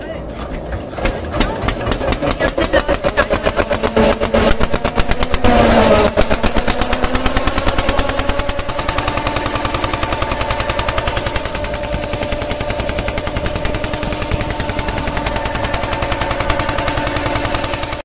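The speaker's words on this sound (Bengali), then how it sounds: "এই আমাদের লঞ্চ স্টার্ট হতে যাচ্ছে।" A motor launch's engine on a river crossing, starting with a rapid loud chugging that settles into a steady thumping idle, with voices under it.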